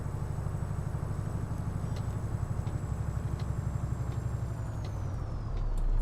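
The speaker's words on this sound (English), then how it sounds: "I don't know how many long journeys you want to do this in this truck with that sort of really loud engine" An Iveco Stralis truck engine in Euro Truck Simulator 2 drones with a fast, steady low throb from the cab, moderately loud and even, rising slightly toward the end, with no talk over it.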